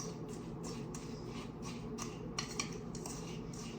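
Graham cracker crumbs and butter are stirred in a bowl with a utensil, giving a run of soft, rhythmic scraping and clinking strokes close by, fairly quiet, with no voices.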